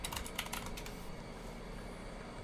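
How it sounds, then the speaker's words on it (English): Typing on a computer keyboard at a desk, a quick burst of close clicking keystrokes for about a second before fading into steady background hum. "Where am I typing on a different monitor?"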